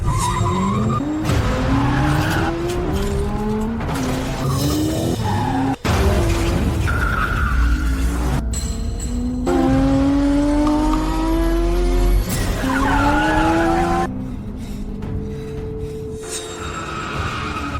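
Race cars scream past with revving engines and squealing, skidding tires in a crash sequence, loud and continuous with abrupt cuts between shots and rising and falling engine pitch.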